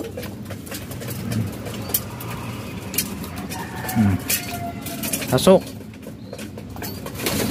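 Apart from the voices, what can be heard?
pigeons cooing and flapping wings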